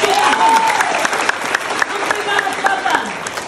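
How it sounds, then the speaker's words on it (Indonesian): Audience at a prayer and healing service claps in a dense burst with some crowd cheering, while a voice speaks or sings over the applause. "Tepuk tangan."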